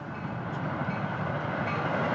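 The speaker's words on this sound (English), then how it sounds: "Train going in the other direction." A train rumbles past nearby in a steady, continuous roar with faint rattling, no voices, lasting the whole moment.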